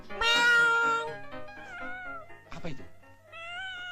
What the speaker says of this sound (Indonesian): kucing saya memang nakal